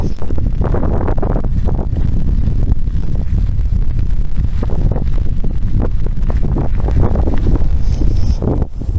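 A strong crosswind on a highway shoulder batters the microphone during a bicycle tour from Reno to Hawthorne, Nevada. The roar is loud and gusty and lasts the whole time.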